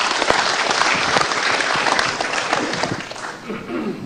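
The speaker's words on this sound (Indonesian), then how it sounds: "mari kita tepuk tangan untuk umat Islam Indonesia" A studio audience at an Indonesian televised debate applauds loudly, a dense wash of clapping that holds steady and then tapers slightly toward the end.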